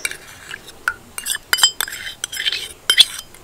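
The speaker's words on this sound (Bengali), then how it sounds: "এবার এটাকে ভালো করে মিশিয়ে নেব।" A spoon clinks and scrapes against a bowl while beaten curd is stirred into a mixture for mishti doi, quick irregular taps and chinks close by in a quiet room.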